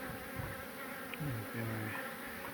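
Honeybees from a large hive being relocated hum and buzz steadily close by, with individual bees droning past in short passes over a continuous swarm-like drone.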